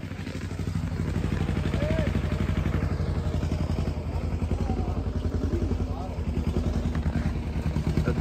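A tractor engine climbs a steep mountain road on the pilgrimage route to Kedarnath, its heavy diesel rumble close and loud, throbbing steadily throughout.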